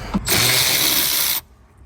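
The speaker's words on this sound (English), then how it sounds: "You can either use a ratchet with a socket, or in my case, I have an electric ratchet" An electric ratchet with a socket spins a 17mm nut off inside an RD1 Honda CR-V, a loud, steady whirring burst lasting just over a second with quiet moments before and after.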